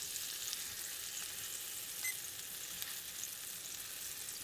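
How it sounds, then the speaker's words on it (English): An eye round roast steak sears in a hot pan, giving a steady close sizzle and crackle with faint spits and pops throughout. "We just need to get a little sear on it."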